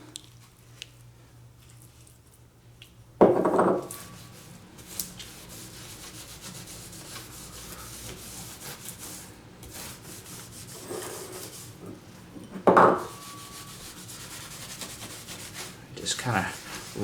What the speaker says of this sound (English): gently rub it in, and it's supposed to make this look a whole lot better.